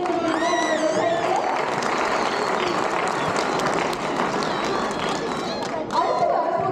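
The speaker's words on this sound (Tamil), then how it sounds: "ஒரு பெரிய கைத்தட்டல் கொடுத்தீங்க விவசாயிக்கு" A large stage audience gives loud sustained applause for a farmer at a Tamil cultural event, dense clapping with some cheers, while voices talk over it.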